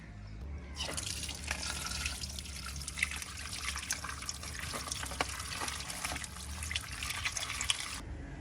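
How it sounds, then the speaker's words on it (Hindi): Muddy potatoes being washed in water in a village mud house, a steady close splashing and trickling of water with frequent small drips and knocks, continuous throughout with no talking. "आलू पहले हम धो लेते हैं, काफ़ी ज़्यादा मिट्टी लगी हुई है"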